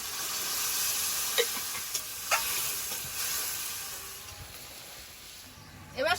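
In a pan of chicken masala for chicken do pyaza, water hits the hot spices with a continuous, close sizzle and hiss. A few short clinks and scrapes break through the sizzle, which settles slightly toward the end.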